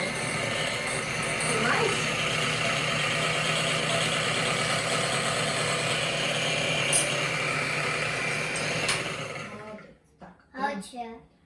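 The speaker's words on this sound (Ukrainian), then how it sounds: "треба буде його міксером це все перебити" Electric mixer beating eggs for Easter muffins in a home kitchen, a steady motor whine running at high speed for about nine seconds before stopping, then voices talking.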